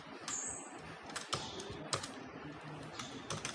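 Keystrokes clatter on a computer keyboard while C++ code is entered, a steady run of sharp clicks with a few louder key strikes, close and without voices.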